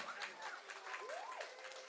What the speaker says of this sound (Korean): 우리 큰 박수로 우리 함께 환영하도록 하겠습니다